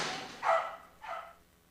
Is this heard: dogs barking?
yes